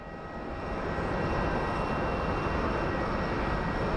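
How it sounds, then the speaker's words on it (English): A Southwest Airlines airliner arriving at Phoenix Sky Harbor airport gives a broad, steady engine roar that swells slightly at the start and then holds level, heard alone with no talk. "Looks like we will be getting a Southwest Airlines coming from Indianapolis."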